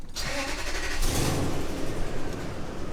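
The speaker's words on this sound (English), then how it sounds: "Now if we start the truck" A 2001 Toyota truck with a 4.7 liter V8 and a lit check engine light cranks briefly, catches and settles into a steady, loud rumble close by.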